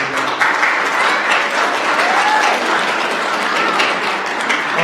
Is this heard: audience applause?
yes